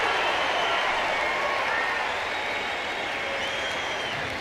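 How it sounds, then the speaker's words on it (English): Dense, steady crowd roar and applause from a standing college baseball crowd at LSU versus Auburn, cheering as a batter strikes out on a changeup, filling the whole moment without pause. "This crowd is standing, sending its encouragement to Newman."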